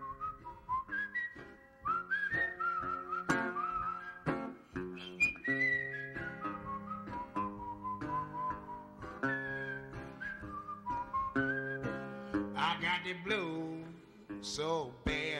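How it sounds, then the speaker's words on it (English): Whistled melody sounding within a blues song, bright sustained notes over guitar and band accompaniment, steady and prominent throughout with no voice. "Whistle a little bit."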